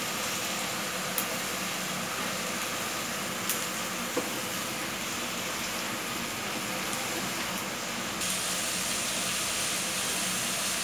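Onions sizzling in hot oil with garlic in a pan for prawn masala, a steady, close hiss with a few faint clicks and no talk.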